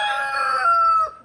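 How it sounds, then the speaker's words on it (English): A black Australorp rooster gives a single full crow, close and loud, holding steady before dropping off sharply at the end. "So that's our black Australorp rooster."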